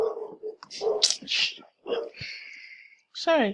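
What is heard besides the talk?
dog barking outside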